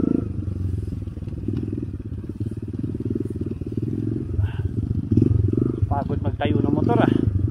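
Enduro motorcycle engine idling and revving with a low, pulsing throb on a slippery rain-wet trail near a highway, close and continuous, with people talking over it.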